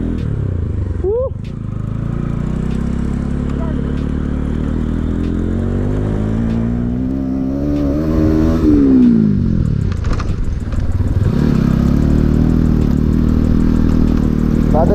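Motorcycle ridden along a rough, muddy mountain road toward Kuri village near Kalinchowk, its engine droning and rising and falling with revs, with clattering over bumps and occasional voices.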